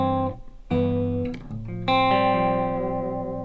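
Electric guitar played through the reverb effect of a Valeton GP-100 multi-effects unit, with sustained chords ringing out in long, washy tails, struck three times and left to decay, loud and clear with no talking.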